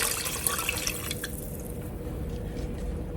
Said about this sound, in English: Make sure you slowly pour everything in so that it won't just splatter everywhere.